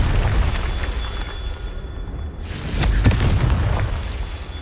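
A Confringo explosion spell cast in the video game Hogwarts Legacy, a loud booming burst that cuts in sharply midway and rumbles on over a noisy backdrop.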